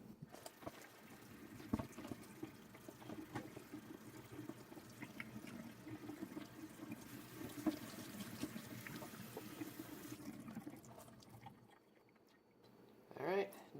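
Running water steadily rinses a K&N air filter for about ten seconds, a constant splashing wash that cuts off, followed by a brief quieter pause and a short final burst of sound.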